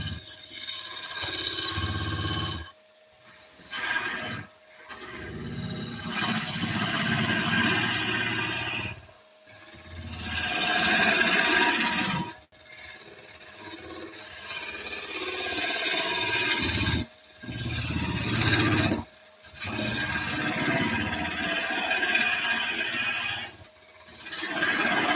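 A woodturning tool cuts a spinning wood piece on a lathe, giving a steady rough scraping and rasping drone. It runs in long stretches broken by several brief silent pauses, with no talking.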